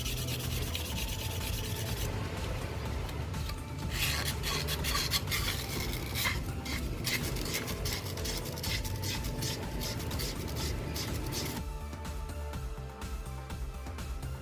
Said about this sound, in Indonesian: sekarang saya ganti amplas ke 800